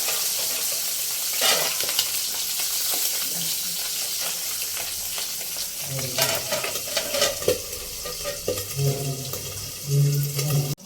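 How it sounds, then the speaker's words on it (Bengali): Tangra fish fry in hot oil, likely under a lid, giving a continuous hissing sizzle with scattered sharp pops and spatters growing busier toward the end, close and without talk. "বন্ধুরা, ট্যাংরা মাছ ভাজার সময় অবশ্যই সাবধানে ভেজে নেবেন, ঢাকা দিয়ে ভাজতে হবে"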